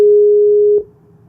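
A Skype call tone sounds as one loud, steady beep lasting most of a second, then cuts off abruptly into quiet background hum.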